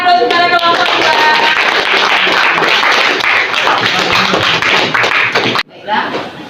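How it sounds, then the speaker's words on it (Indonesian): Classroom audience applauding a student group during a school lesson, a dense burst of clapping that runs steadily then stops abruptly, followed by a brief softer patter. "Iya, berikan aplaus kepada kelompok 2."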